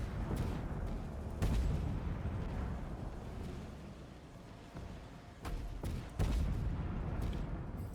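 Tank cannon fire in World of Tanks with a tier 9 tank destroyer near a bridge: several heavy booms land over a constant rumbling engine bed, with sharp blasts around the middle and again in quick succession toward the end.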